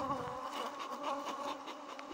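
Bees buzz close by around wet beehive supers, a steady, fairly quiet drone that wavers slightly over a couple of seconds, with no voices.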